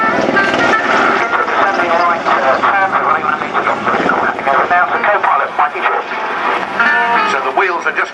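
A helicopter hovers close overhead at the RNAS Yeovilton International Air Day 2005, its loud engine and rotor drone running steadily under continuous commentary from a man.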